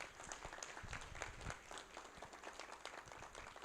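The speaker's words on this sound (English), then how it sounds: "Could we please have a round of applause for Mary Curley and her staff" An audience at a 2019 legislators' breakfast claps in steady, dense applause that holds for the whole stretch, with no voices rising above it.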